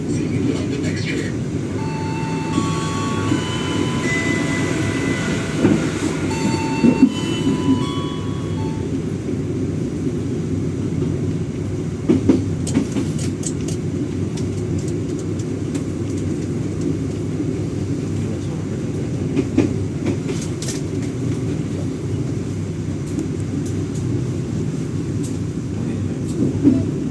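Steady low rumble of the KA Blambangan Ekspres passenger train moving along the rails in Indonesia, arriving at Jatinegara station, with faint tones and a few clanks early on, continuous throughout.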